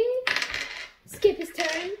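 Dice for the Porcupine Pop toy game clatter in two quick rolling bursts on a hard surface, with a short pause between them and a voice faintly alongside.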